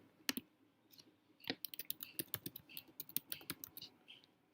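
Typing on a computer keyboard while entering an administrator name in Windows account settings: a quiet, irregular run of close, crisp key clicks and taps, with no voices.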